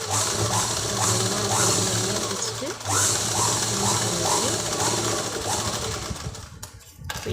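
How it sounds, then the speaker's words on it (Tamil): A sewing machine stitches the front belt of a blouse, a steady fast mechanical rattle with rhythmic clicks, running continuously and close before stopping briefly near the end. "அந்த தையல் மேலேயே நம்ம விட்ட பீஸை மறுபடியும் மடித்து ஒரு தையல் போடணும்."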